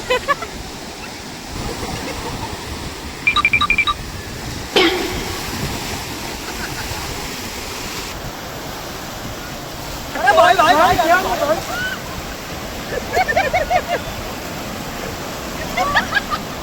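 Sea waves break on Chivla beach on the Konkan coast, making a steady broadband wash of surf with louder surges, while people talk over it.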